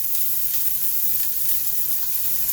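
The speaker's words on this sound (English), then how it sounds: "It says to add the onion. Got it maybe a little hot." Onion sizzles in hot oil in a pan, giving a constant close hiss and crackle that stays fairly even from start to finish.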